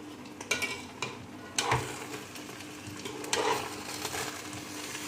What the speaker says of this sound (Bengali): এবার হচ্ছে চালটা ভাজা ভাজা হয়ে গেছে